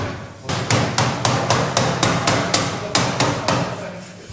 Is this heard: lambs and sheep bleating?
no